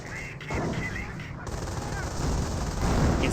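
Gunfire crackles through a Company of Heroes real-time strategy battle. A dense, steady roar of overlapping shots and explosions keeps going with no break, loud and continuous, and a faint voice sits under it.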